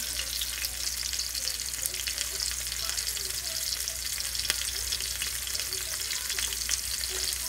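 A ribeye steak searing in a cast iron pan, a loud, steady, close hiss of frying fat with faint crackles, unbroken and without talk.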